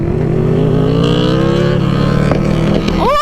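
A Honda CBR 600RR sport motorcycle roars past up close, its loud engine note climbing steadily before a sharp rising rev at the end, continuous and dominant throughout.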